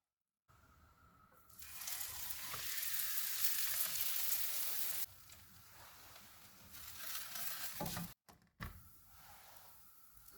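An aloo lachha paratha cooks in ghee on a griddle over a medium-low flame, giving a soft, faint hiss that swells for a few seconds, then settles to a quieter crackle with brief handling noises near the end.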